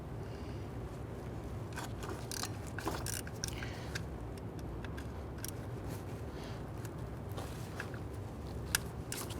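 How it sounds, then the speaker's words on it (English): A 1/4 inch ratchet with a deep socket and small extension loosens 10mm valve cover bolts on a 1999-2004 Jeep Grand Cherokee 4.7L V8, giving intermittent clicking and metallic ticking close by over steady background noise. "I'm just using a 1/4 inch ratchet with our deep socket and a little extension. I'm just breaking these bolts free"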